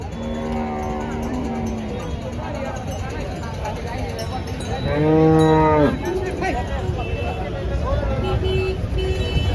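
Loud cattle moos ring out, one long close call standing out midway, amid a noisy crowd at a cattle market in Chalisgaon, India, with talking and a distant horn.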